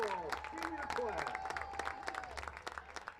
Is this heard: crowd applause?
yes